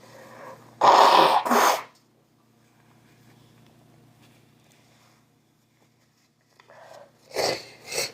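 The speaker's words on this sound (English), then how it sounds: "I'm apologize for blowing my nose" A sick person blows their nose in two loud, close honks, followed by quiet room tone and then two more shorter blows near the end.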